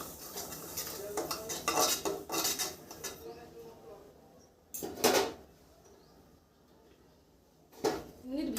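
Semolina dry-roasting in a pan while being stirred, bursts of scraping and metal utensil clatter separated by quiet pauses, close by.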